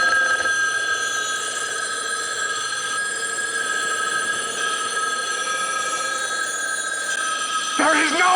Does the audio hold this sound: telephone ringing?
yes